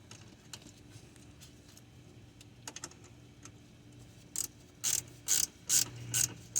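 A ratchet wrench clicks in several short, sharp bursts as a bolt is tightened during an alternator replacement on a Chevrolet Camaro LS, close and loud after a quiet stretch of faint handling noises.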